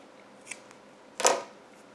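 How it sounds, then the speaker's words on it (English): Scissors snip loose yarn ends on a crochet pumpkin towel topper, a faint click followed by one sharper, brighter snip close by, in an otherwise quiet room. "you can just take and trim the loose yarn ends"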